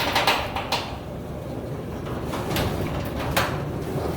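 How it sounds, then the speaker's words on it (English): A Chamberlain side-mount garage door opener stops and reverses the door after it strikes an obstruction: a steady mechanical rumble runs throughout, with a few sharp clunks near the start and again later as the door changes direction. "Door will strike the obstruction. Door will stop and reverse."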